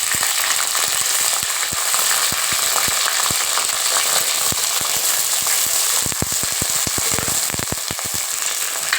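Sliced okra and shallots for a tamarind curry sizzle steadily in hot oil, a dense crackling hiss with sharper pops growing busier toward the end, with no talking.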